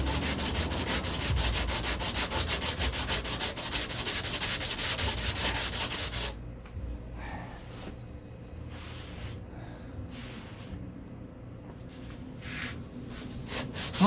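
Steady hand sanding scrapes back and forth over body filler on the passenger door of a 1969 Corvette C3, loud and continuous for about six seconds, then softer and more intermittent strokes.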